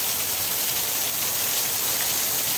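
Steady, dense wash of spring storm rain in southern Illinois, following a burst of hail, pouring down continuously and fairly loud, filling the whole stretch without a break and with no voices.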